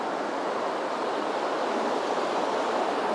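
Steady broadband rush of the waterfall at the Falls of Leny near Callander, Scotland, heard from a short distance as a continuous, even roar with no breaks and no voices.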